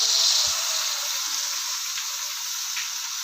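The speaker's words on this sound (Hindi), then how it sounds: "अब हम ये गोभी के फूल डाल देंगे" Washed cauliflower florets sizzling in a hot pan for aloo gobhi, a steady bright hiss of frying with faint crackles and a soft clunk near the start.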